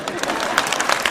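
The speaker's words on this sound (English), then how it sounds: "Go ahead, clap." A casino grand-opening keynote audience breaks into a brief burst of applause, a fairly even spray of many hands clapping, moderately loud, with some crowd voices underneath.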